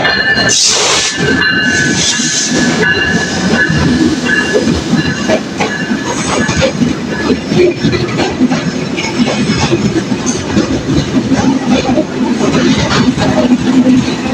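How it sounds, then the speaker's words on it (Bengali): The Chitra Express, train 6612, rolls in at platform 1 of Chuadanga station with loud, close clattering wheels, metallic squeals and hissing brakes, plus a sharp burst near the start, all continuing under a busy station din. "আমাদের ট্রেনটা চলে এসেছে।"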